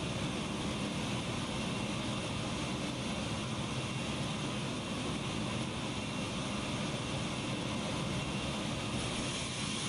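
Constant, loud roar of DC-9 airliner jet engines in flight in a flight simulator video game, a dense steady drone that stays level throughout without any speech.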